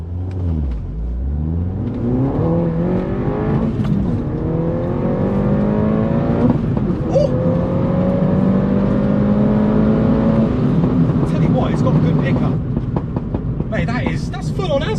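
A 270 BHP MINI JCW Roadster on a standard cat-back exhaust revs and accelerates hard through rising gear sweeps, loud and close, with a crackling popcorn-like exhaust burble.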